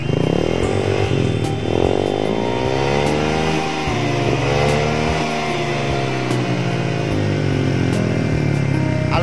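A Honda Vario scooter engine with a modified exhaust filter idles and revs steadily nearby, its deep, smooth bassy drone rising and falling with throttle blips.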